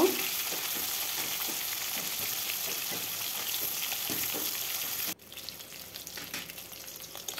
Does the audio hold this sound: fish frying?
yes